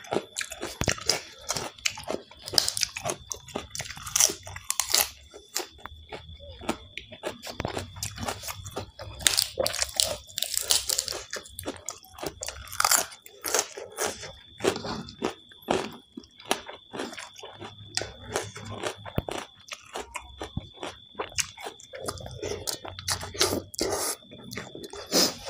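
Loud crunching and chewing of Lao-style papaya salad with rice noodles, crisp vegetable stems and crispy pork rinds, a close, steady run of crisp bites and wet mastication with no talk.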